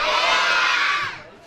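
Crowd of children at a church parish event shouting in unison, a loud sustained massed yell that holds for about a second and then fades out.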